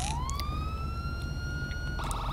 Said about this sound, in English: Is my siren still on?